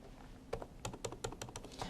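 Computer keyboard typing while entering payroll data into accounting software: a quiet run of about eight separate key clicks at an uneven pace, close and alone without speech.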